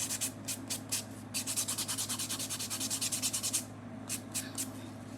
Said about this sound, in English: I'm just going over the nails with this buffing block